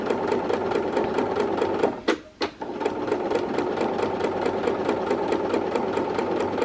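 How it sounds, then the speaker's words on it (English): A sewing machine stitches the interfaced collar seam of a McCalls 8385 garment with a fast, even mechanical rattle that halts for a moment and then resumes, close and steady. "This is on the interfaced side that I'm sewing"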